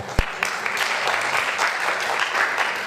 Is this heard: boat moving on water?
no